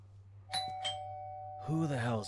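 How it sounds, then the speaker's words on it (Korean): A doorbell rings at night in the horror video game You've Got a Package, two quick electronic chimes followed by a louder tone, with a game musical drone underneath. "초인종?"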